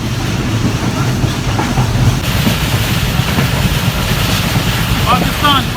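Riding a train to Tando Adam in Sindh, Pakistan: a steady, loud rumble of the moving carriage continues throughout, and voices can be heard toward the end.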